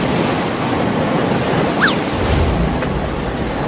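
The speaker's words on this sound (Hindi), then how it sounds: "बाढ़ का पानी बढ़ रहा है।" Cartoon floodwater rushes in a loud, continuous surf-like roar with a faint high squeak near the middle, with no speech.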